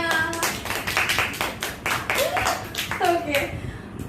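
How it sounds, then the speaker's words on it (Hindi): A group of children claps hands in a classroom quiz game, a dense patter of applause with voices calling out over it. "तालियां"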